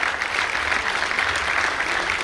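A stage audience gives a sustained round of loud applause, dense and even throughout, with no talk over it.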